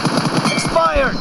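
Rapid automatic gunfire fills a short team deathmatch moment in PUBG Mobile, a quick pulsing burst of shots heard together with game voice announcer sounds.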